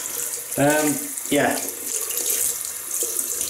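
Tap water runs into a sink to wet a shaving brush, a steady close hiss of flowing water, while someone speaks briefly over it.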